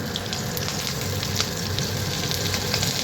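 Panch phoron and a torn dried red chilli fry in hot oil, giving a steady close crackling sizzle with scattered pops, continuous and without voices.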